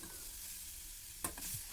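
A spoon stirs a grated carrot mixture in a hot steel pan, a quiet continuous scraping with a soft sizzle, then a few sharper scrapes near the end.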